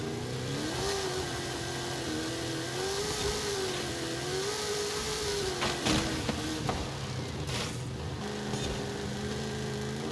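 Video game trophy truck engine revving with wavering pitch as the throttle is feathered up and down, a steady mid-range drone with a few sharp transient clatters near the middle.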